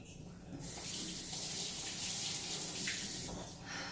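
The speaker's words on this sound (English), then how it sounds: "I'm going to give this a quick rinse." Tap water runs steadily into a sink as a dish is rinsed in a home kitchen, a close, continuous gushing that starts abruptly and swells before easing near the end, with no talking.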